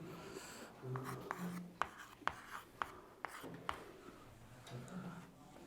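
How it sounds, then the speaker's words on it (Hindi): Writing on a board during a chemistry lesson on covalent bonds, a series of quiet scratchy strokes and taps in an irregular rhythm, faint and close, with low room noise in the background. "डेफिनेशन लिख रहे हैं इसको"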